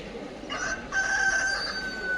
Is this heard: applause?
no